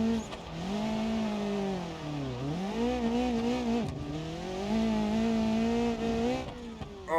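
Rally car in the BeamNG.Drive video game driving on a dirt track, its engine droning and shifting pitch with revs and gear changes, steady and fairly close without talk.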